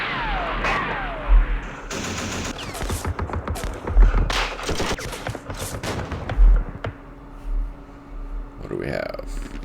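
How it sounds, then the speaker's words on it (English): Gunfire in the Vietnam War strategy game Campaign Series Vietnam, with bursts of machine-gun fire and sharp shots scattered irregularly across the clip, several loud booming reports standing out over a busy background. "Let's do some firing."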